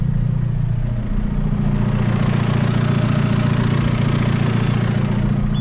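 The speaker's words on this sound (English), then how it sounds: "I have crunk up my tractor, and now I will engage the PTO. It will start spinning." A farm tractor runs with its PTO engaged, spinning a feed grinder for heifers and steers, producing a loud, steady engine drone that holds unbroken throughout.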